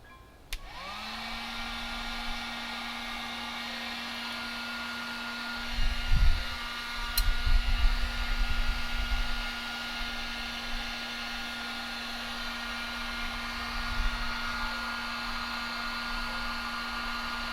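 Heat gun blowing hot air onto a creepy doll craft piece: a steady, loud whooshing drone with a low hum that runs continuously, with a few faint bumps and handling noises partway through.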